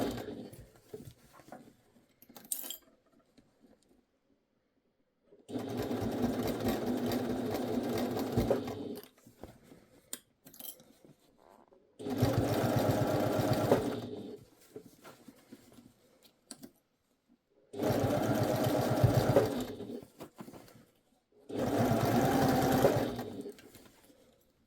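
A sewing machine fitted with a zip foot stitches a pouch in four steady whirring runs of a few seconds each, separated by quiet pauses with faint handling clicks.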